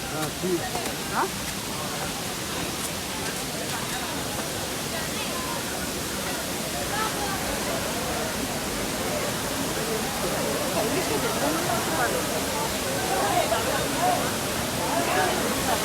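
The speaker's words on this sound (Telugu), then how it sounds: "so guys finally came to water falls" Steady, dense rushing of falling water fills the whole stretch, loud and constant, with faint voices mixed into the roar.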